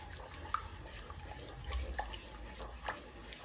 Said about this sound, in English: I think I'm splashing everywhere now